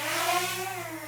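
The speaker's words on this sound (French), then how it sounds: "Les moteurs ils se mettent en route." The motors of a DJI Mini 4K drone spin up close by, a loud, steady whirring whine with layered tones that holds for about a second with no talk.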